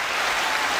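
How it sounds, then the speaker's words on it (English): Applause from a studio audience, a brief dense burst of clapping that stays steady and loud for under a second with no talking over it. "The applause for Debbie is overwhelming."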